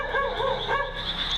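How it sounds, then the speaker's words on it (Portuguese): A dog barks and yips repeatedly in the background of a cemetery at night, the calls coming in quick, wavering bursts at moderate loudness with no talk over them. "enquanto o dog late ao fundo."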